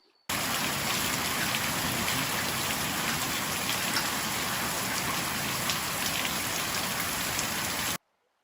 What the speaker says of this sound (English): There's been so much rain, my friends.